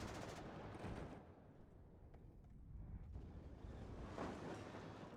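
Artillery fire in the Warno real-time strategy video game: dull, distant booms and rumbling blasts set against a steady windy battlefield roar, with no talking.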